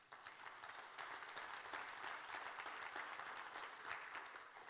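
A congregation at a church teaching session breaks into continuous applause, an even, dense patter of many hands that swells slightly midway, recorded quietly and from a distance.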